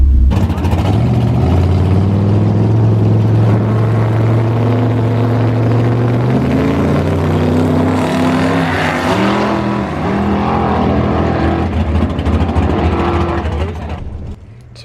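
A turbocharged race car on a test run idles and revs at low RPM. Its loud engine drone steps up and down in pitch for the whole stretch before cutting off at the end.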